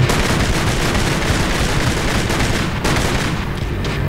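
Gunfire from the video game Kane & Lynch: Dead Men, a continuous loud barrage of rapid shots and booms filling the whole stretch with no talk over it.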